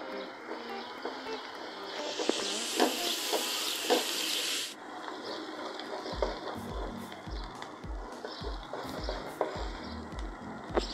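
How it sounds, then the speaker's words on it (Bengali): Two large chopped onions fry in hot oil toward golden brown for beef Karachi biryani, giving a bright, steady sizzling hiss for a few seconds that then drops to a quieter bubbling with low, irregular knocks. "পেঁয়াজগুলোকে গোল্ডেন ব্রাউন করে ভেজে নিতে হবে।"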